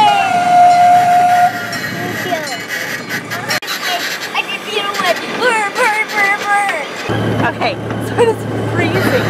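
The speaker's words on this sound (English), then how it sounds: "when it's not so loud on the train" A zoo train ride heard from on board, loud and constant, with a steam-style whistle at the start and people talking throughout over the rattling rumble of the cars.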